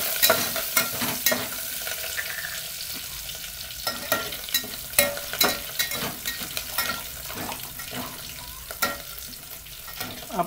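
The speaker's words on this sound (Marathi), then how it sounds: "छान असं हलवून घेऊ याला." Dal tadka with garlic, curry leaves and coriander being stirred in a pan, a steady sizzle under repeated scraping and clinking strokes of a spoon, close and continuous with no talk.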